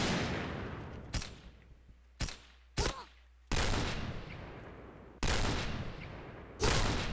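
Gunfire in the video game Point Blank comes as several sharp, loud shots and bursts, some rapid fusillades, separated by short pauses.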